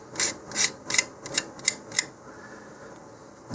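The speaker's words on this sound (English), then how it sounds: "So I'm actually sanding the area to which the fillets will attach." Close, dry rasping strokes as sandpaper works the fin root edge of a model rocket, about eight short rhythmic scrubs in two seconds before the sanding stops.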